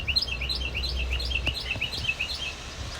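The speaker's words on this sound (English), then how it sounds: "There's a bird up here who is just talking themselves silly." A bird sings outdoors in a steady run of bright, repeated chirps and tweets, fairly close and clear over a low background rumble, with no talking.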